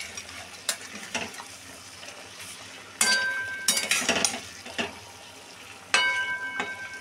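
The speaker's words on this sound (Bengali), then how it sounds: "পটলগুলো চিনির সিরাপে দিয়ে এবার মা নেড়ে দিচ্ছে।" Pointed gourds being stirred in sugar syrup in a pot, a soft bubbling simmer with repeated metallic clinks and scrapes of a spoon against the pan, several louder bursts, close and without talk.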